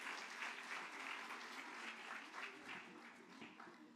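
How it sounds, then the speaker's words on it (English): An audience at a children's cultural program claps steadily in a dense, sustained wash of applause, heard at a moderate distance at a fairly low level. "Please give another round of applause to our Group 2 children for their wonderful invocation"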